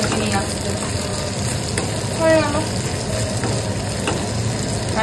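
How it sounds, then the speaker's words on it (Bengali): Sliced bitter gourd fries in a pan with a steady, close sizzle and crackle running throughout, with a brief faint voice-like sound in the middle. "আর এখানে হচ্ছে উচ্ছে ভাজা"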